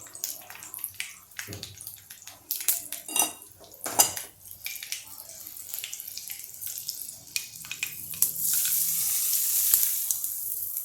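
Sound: hot tempering poured sizzling onto dhokla

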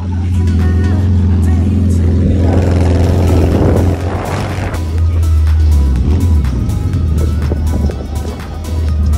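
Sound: Volkswagen Beetle engine revving

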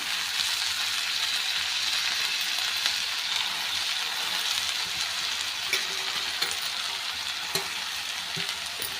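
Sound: fenugreek leaves added to hot oil with chili and garlic

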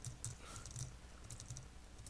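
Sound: typing on a computer keyboard

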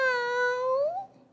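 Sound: performer imitating a cat meowing

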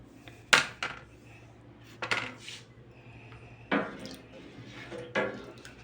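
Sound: stirring rennet into 10 kilos of milk for cheese

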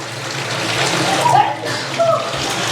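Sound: water running into a bathtub

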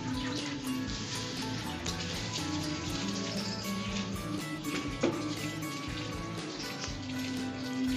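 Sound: tub water being poured into flower pots

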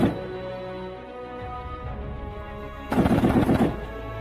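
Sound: heavy machine gun fire

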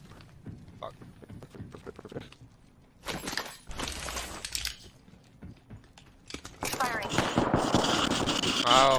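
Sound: gunfire in Apex Legends video game

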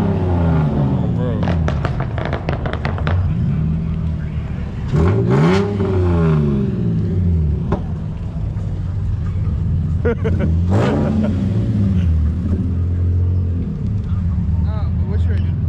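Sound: car engine revving

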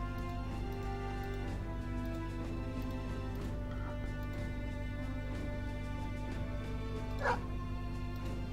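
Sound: dog barking in Battle Brothers video game

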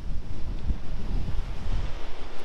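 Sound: ocean waves at a pier, with wind

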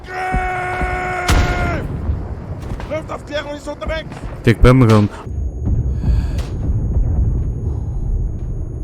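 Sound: gunfire and explosions in video game Isonzo

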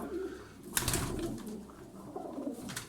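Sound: pigeons cooing

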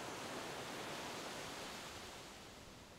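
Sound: comforting white noise with waves

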